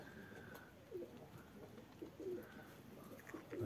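Pigeons coo softly in short, repeated low calls against a steady outdoor background, with a faint higher whistle drifting in and out.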